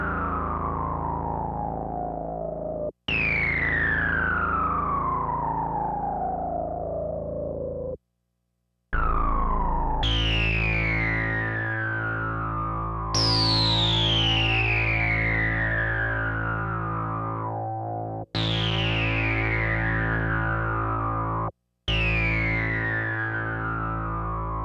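A Behringer Model D synthesizer at high emphasis, resonant filter sweeps falling in pitch and breaking up into a gritty, distorted buzz, played as a series of loud held notes with brief gaps between them.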